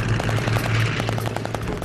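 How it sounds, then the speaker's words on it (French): Rapid bursts of machine gun fire from World War I LVG two-seater biplanes during an aerial dogfight, a dense rattling pulse repeating evenly over a steady loud drone, with no speech. "Les tirs des LVG ont contré son attaque."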